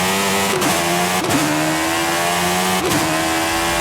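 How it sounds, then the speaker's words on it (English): A motorcycle engine in Forza Horizon 5 revs hard and continuously, its pitch climbing between three brief shift dips, loud and close with no talking. "fair play to Forza for actually doing the motorcycle engine sounds justice"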